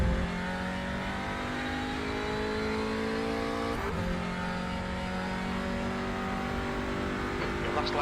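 Audi RS3 LMS TCR touring car on a hot lap at Laguna Seca in iRacing, its engine droning steadily with shifting harmonic tones as it accelerates, one brief sharp transient near the middle, continuous and close throughout.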